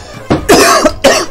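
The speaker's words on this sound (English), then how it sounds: "Oh no, not again. Don't cough again." Two loud, close coughs come in quick succession, each a sharp harsh burst, with a softer breath just before them.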